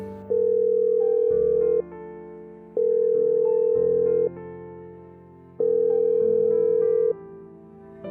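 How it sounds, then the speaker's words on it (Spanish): A loud electronic telephone tone sounds in repeated bursts of about a second and a half, separated by short pauses, with steady pitched layers underneath. "al marcar al teléfono de sus seres queridos, podían escuchar un tono de marcado"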